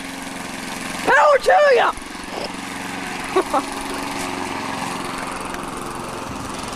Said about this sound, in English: You mow that lawn